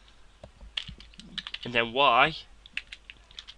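Code being typed for a Unity 3D shop fix gives a scattering of quick, light computer keyboard clicks, with a brief burst of speech midway before the keystrokes resume.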